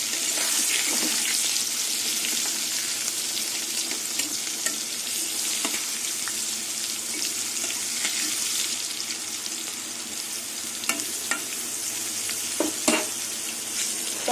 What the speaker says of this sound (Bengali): ঢেকে ঢেকে পটলগুলো ভেজে নেব।